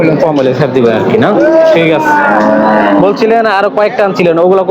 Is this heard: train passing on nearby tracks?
no